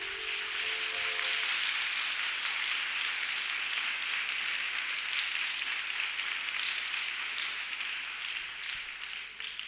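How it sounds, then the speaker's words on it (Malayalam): Applause from an audience at the closing session of a youth camp, a dense, steady wash of many hands clapping close by, holding for nearly ten seconds and easing slightly near the end. "നല്ലതായിരുന്നെങ്കിൽ നല്ല കൈയടി."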